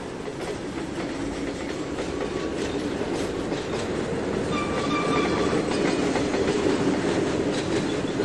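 Loaded and empty train cars roll back onto a track in the Trainz 2019 railroad simulator, with a steady, close rumble of wheels and a faint clickety-clack that swells slightly near the end.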